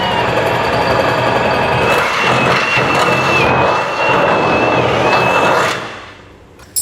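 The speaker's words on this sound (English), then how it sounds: "So 1/2 inch drill bit, and we'll go right up through there." A 1/2 inch drill bit bores up through the bed of a 2012 Ram 2500 pickup for a gooseneck hitch, giving a loud, continuous grinding whine for about six seconds before it stops abruptly.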